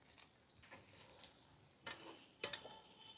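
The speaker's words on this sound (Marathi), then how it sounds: "आपला लसूण चांगला बऱ्यापैकी फ्राय झालेला आहे।" Chopped garlic frying in oil with mustard seeds, cumin and curry leaves, a soft steady sizzle with brief crackling pops and stirring scrapes, quiet and close, with no talking.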